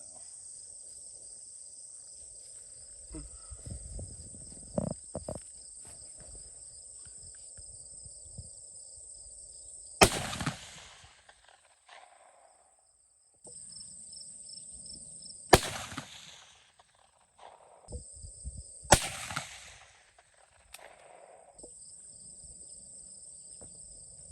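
Three loud, sharp rifle shots from a French MAS 36 rebarreled to .450 Bushmaster with a 22-inch barrel, spaced several seconds apart outdoors, each with a short echoing tail over a steady chorus of crickets.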